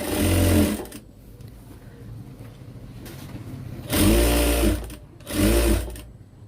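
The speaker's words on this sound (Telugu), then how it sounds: "దీన్ని పాదం కుట్టేసుకోవాలి" Sewing machine stitching a blouse in a tailoring lesson, with three bursts of fast, loud mechanical running separated by quiet pauses with faint background noise.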